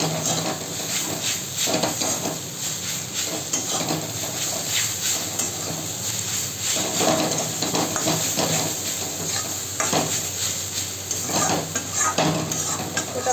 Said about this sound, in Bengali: সেটা সময় নিয়ে এবারে একটু ফুটিয়ে ফুটিয়ে আগে ভাজতে হবে